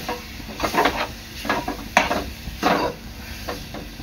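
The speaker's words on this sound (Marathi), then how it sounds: "हे चांगलं 5 ते 7 मिनिटं परतून घ्यायचं आहे" Ridge gourd chutney sautéing in a pan, with a series of spatula scrapes and stirring strokes against the metal over a soft sizzle; several distinct clattering bursts spread across the moment, close and moderately loud.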